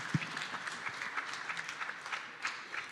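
An audience at a stage event applauds with a moderately loud, steady wash of clapping that holds for a few seconds without letup.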